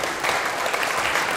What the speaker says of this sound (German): Geben Sie beiden einen großen Applaus.